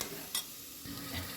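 Potatoes and brinjal are stirred with masala in a sizzling pan for a kurma, a soft scrape over a steady fry hiss, quiet and close, with no voice.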